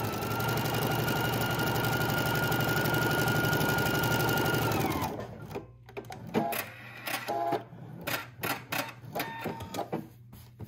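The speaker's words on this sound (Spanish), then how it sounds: "voy a coser aproximadamente a una pulgada de la orilla" A sewing machine runs a steady, loud, continuous stitching drone while sewing a seam about an inch from the edge of denim or canvas, then stops abruptly, followed by scattered clicks and handling sounds.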